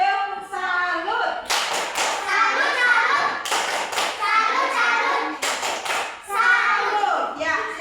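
In an Indonesian primary classroom, children chant a salute cheer together and clap in sharp bursts, the claps landing in a few rhythmic clusters under their loud unison voices.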